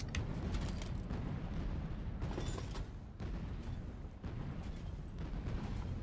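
A turret fires in the Artificial Extinction video game, a run of heavy booming shots over a constant rumble, each blast dense and close, with short gaps between volleys.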